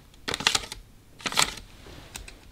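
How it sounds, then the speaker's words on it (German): Scissors on a multitool (a copy of the Leatherman Wave) cutting through a sheet of paper: two quick bursts of crisp snipping clicks close by, with a faint click afterward, no voices. "Bei der Schere ist es halt so, dass ich nehme jetzt hier ein Papier"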